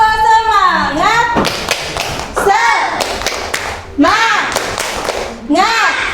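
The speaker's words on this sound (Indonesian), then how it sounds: "kita tepuk semangat ya" Schoolchildren in a classroom perform a rhythmic spirit clap, with bursts of sharp group claps alternating with loud, close chanting voices in a steady call-and-response pattern.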